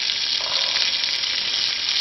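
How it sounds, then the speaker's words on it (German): Sea trout frying in melted butter in a pan over a campfire, a dense, steady hiss and crackle of sizzling fat, close and continuous without talk. "Die Pfanne steht auf dem Feuer mit schön ausgelassener Butter."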